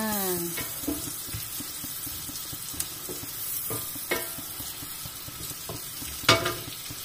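French fries fry in hot oil on a home stove, a soft steady sizzle with occasional clinks and scrapes of a utensil against the pan, close and moderately quiet, no voices.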